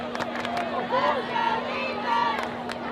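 High school varsity football crowd at a Redondo Union versus North Torrance game cheering on a critical third down, a sustained roar of many voices with shouts and whistles, fairly loud and steady.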